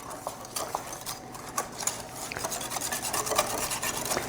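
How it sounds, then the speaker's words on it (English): A whisk works flour and baking powder into a mixture for cheesy baked cauliflower, giving light, rapid taps and scrapes against the bowl in a steady, fairly quiet rhythm with no talking. "now add in the flour and the baking powder and just whisk that in"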